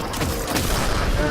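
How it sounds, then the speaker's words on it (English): In Destiny: Rise of Iron, a Firefly perk sets off an explosion that kills an enemy. It lands as a loud, dense burst amid continuous heavy gunfire and booming combat noise. "Here's an example of Firefly, by the way. He just blew up."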